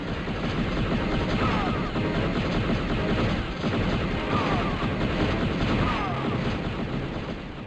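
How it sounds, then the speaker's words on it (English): Continuous blaster fire from the video game Shadows of the Empire, a steady rattling barrage of rapid shots with explosive bursts mixed in, loud and unbroken for several seconds. "trying to shoot the guy over there so he doesn't snipe me to death"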